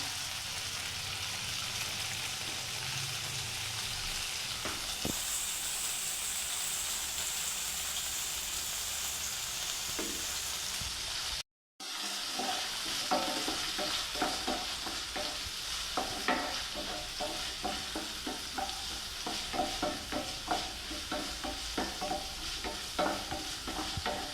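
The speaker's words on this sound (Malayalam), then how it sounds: "ഒന്ന് വഴറ്റിയെടുക്കാം" Small onions, shallot, garlic, ginger, pepper and curry leaves sautéing in a pan, a steady close sizzle with scraping stirs and a brief break partway through.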